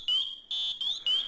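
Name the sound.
MSA Firehawk M7 SCBA PASS alarm sounding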